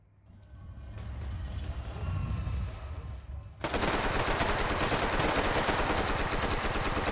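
Video game gunfire in a competitive match: a rumbling engine-like drone gives way to a loud, rapid, sustained burst of automatic fire, close and continuous, with no talking.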